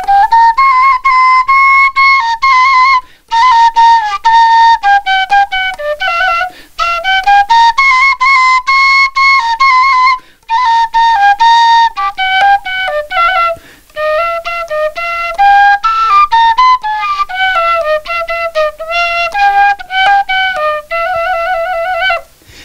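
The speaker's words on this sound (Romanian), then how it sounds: "iată, un fluieraș" A small handmade Moldovan fluieraș whistle plays a lively folk melody, loud and close, with clear bright tones in quick phrases broken by short breaths.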